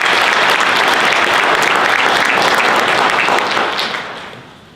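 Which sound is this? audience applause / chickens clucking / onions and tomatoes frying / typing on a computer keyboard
audience applause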